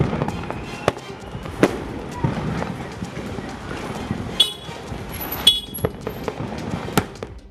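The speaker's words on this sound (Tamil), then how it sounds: "தீப்பொறி வெளிவரும் பட்டாசுகளை பற்ற வைத்து தீப்பொறி பறக்க சிலம்பம் சுற்றியது" Sparkling firecrackers tied to both ends of a spinning silambam staff crackle and pop in sharp, irregular bursts over a busy outdoor crowd, with voices talking underneath.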